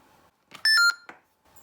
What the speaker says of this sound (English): that beep comes from the computer itself